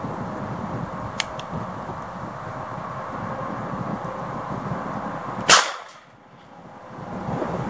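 A single sharp gunshot from a .45 Colt revolver fired over a chronograph, an outdoor crack partway through amid steady wind noise, followed by a brief drop in the background and a slow return.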